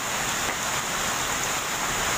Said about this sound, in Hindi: जैसे कोई बर्फबारी होती है हिल स्टेशन पर उस तरीके से यहाँ ओला पड़ रहा है